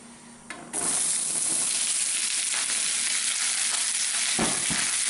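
Peppers and onions hit a hot pan and break into a loud, steady sizzle, with the scrape of stirring passing through the constant frying hiss up close.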